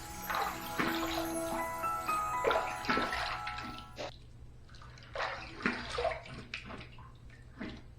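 Running water splashes and gushes as a Zeva razor is rinsed under a tap, a close, uneven stream broken by pauses and renewed bursts of spattering.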